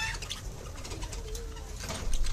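Cockatiels in a pet shop give soft, repeated calls and coos against a low indoor hum, rising a little louder near the end.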